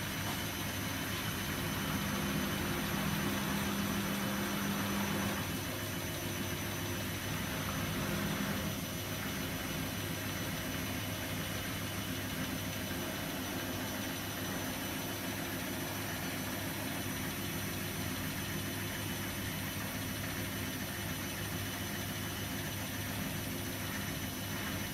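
A Hotpoint Ultima Extra WMA64S washing machine on a darks rinse-and-spin cycle spins at around 500 RPM, a steady droning whir with tonal motor hum that stays even and continuous, alone without voices.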